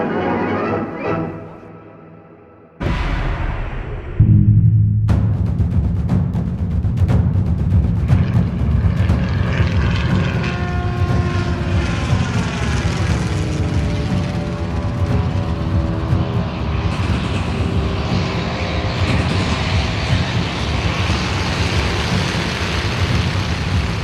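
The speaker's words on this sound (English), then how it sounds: "With this first catapulted takeoff, man's age-old dream of flight became a reality." An early propeller flyer makes a catapulted takeoff: after a brief quieter start, a loud, steady engine and propeller roar comes in and holds for about twenty seconds.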